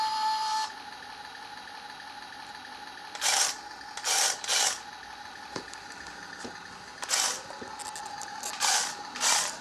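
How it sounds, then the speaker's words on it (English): A mini RC Tiger tank with metal tracks drives across a hard surface, giving a steady mechanical whine under repeated short, loud bursts of rattling, clattering track noise. "Because of the metal cracks, it's not kind of very good on these surfaces, but it does a good job driving around."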